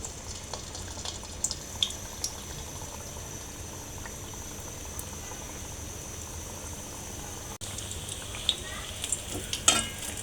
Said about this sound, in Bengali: আমি এখন পিঠাগুলো একে একে সব ভেজে নেব